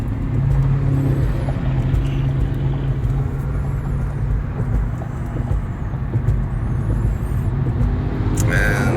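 A steady stream of road traffic with cars passing one after another, a Chevrolet among them, a continuous loud engine and tire roar with a brief brake hiss near the end and a word spoken over it.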